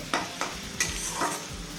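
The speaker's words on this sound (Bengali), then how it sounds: "পেঁয়াজ রসুনটা আমি 30 সেকেন্ড মধ্যে একটু ভেজে নেব" Onion and garlic fry in a pan for a village-style jute leaf dish, giving a steady sizzle broken by several sharp scraping stirs, close and alone with no voices.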